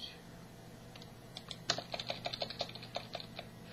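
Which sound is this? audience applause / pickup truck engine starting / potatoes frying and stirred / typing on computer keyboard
typing on computer keyboard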